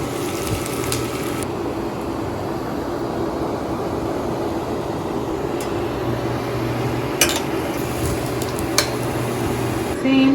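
A tortilla frying in hot oil for a Mexican-style pizza, with a steady, even sizzle and hiss that runs throughout and a few brief, sharper crackles near the end.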